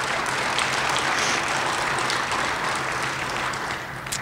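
An audience at a university Hall of Fame induction speech applauds in a steady, dense burst of clapping that holds evenly for about four seconds and begins to taper at the end, with no talking over it.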